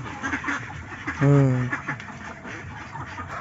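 A single nasal duck quack rings out briefly over a low, noisy outdoor background at a farm.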